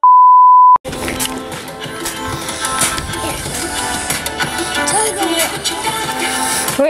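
A single loud, pure censor beep tone rings out briefly at the start, then cuts to a busy, noisy vlog scene with voices and clatter.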